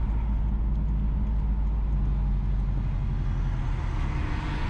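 A car drives along a road near Oracabessa in St Mary, Jamaica, its engine and tyre roar a steady, close, unbroken rumble with no voices.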